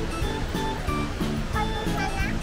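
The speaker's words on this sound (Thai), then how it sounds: "นั่นน้ำตกนะครับแรงมากหน้าน้ำน้ำแรงมาก" Khlong Lan waterfall in northern Thailand, running strong in high-water season, gives a dense, continuous roar close by, with someone talking over the rushing water.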